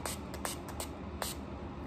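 Makeup setting spray is pumped onto a highlighter brush in several short, airy hissing spritzes at an irregular rhythm, close to the mic with no talking.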